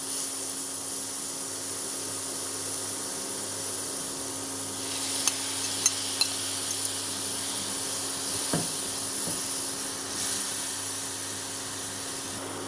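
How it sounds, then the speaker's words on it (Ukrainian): Carrot fries in butter with meat in a pan, giving a steady, even hiss with a few faint clicks of stirring and no voices. "Теж 30 секунд розмазуємо разом з маслом та м'ясом"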